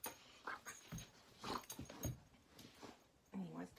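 A dog who wants to play lets out soft whimpers, brief yips and light growls in short bursts, close but faint, while a person talks nearby.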